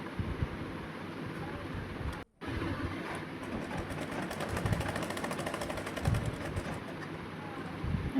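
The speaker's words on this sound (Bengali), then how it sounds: "এবার আমি যেখানে 2 ইঞ্চি কেটেছিলাম সেটা সেলাই করে নেব উল্টো সাইডে।" Sewing machine stitching the reverse side of dhoti pant fabric at a two-inch cut, a steady close mechanical whir running throughout with one brief pause partway through.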